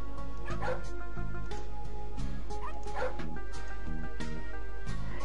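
A dog barking, yipping and whimpering in a video game about taking a dog for a walk and digging through garbage, short canine cries repeating over a loud steady game music loop.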